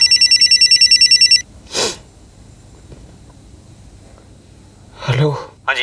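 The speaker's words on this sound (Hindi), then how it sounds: "फोन बज रहा है, फोन उठाओ।" A telephone bell rings indoors in a rapid, trilling burst for just over a second and then stops. A sharp breath follows, then a quiet pause and brief vocal sounds.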